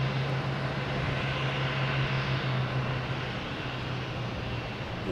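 Airliners taxiing and flying at Boston Logan Airport, with an Alaska Airlines jet pushing back; a steady engine drone with a low humming tone, even and continuous, no voices.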